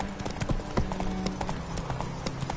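A horse's hooves clip-clop at an easy trot on the ground in The Witcher 3, with close, evenly spaced, crisp knocks in a steady rhythm and no talking.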